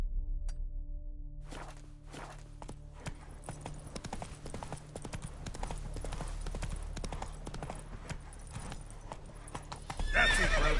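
Roach, Geralt's horse in The Witcher 3: Wild Hunt, clip-clopping at a steady walking pace with a whinny near the end, over a low game ambience and a brief tone at the start.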